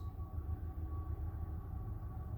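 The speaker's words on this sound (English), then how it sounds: "I apologize too if you can hear the train background." A low, steady rumble of a train carries on in the distance throughout, faint and continuous with a thin tonal whine above it.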